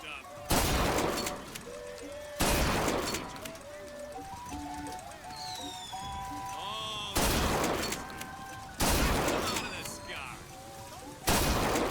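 Gunfire in the video game Bioshock Infinite against rebels, with loud broadband shot bursts recurring at irregular intervals between stretches of game sounds, chimes and music, while a voice talks over it.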